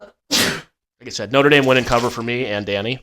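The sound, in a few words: sneeze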